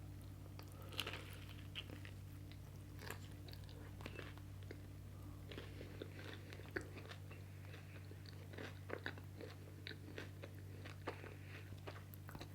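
Faint, close chewing and crunching of chips and salsa on bread with cream cheese, with irregular crisp bites over a steady low hum.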